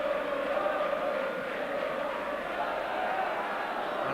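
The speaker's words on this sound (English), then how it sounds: "And quite a crowd there." A large football crowd at Villa Park during a 1984 Aston Villa versus Tottenham match sends up a steady, dense roar of massed voices, fairly loud and unbroken throughout.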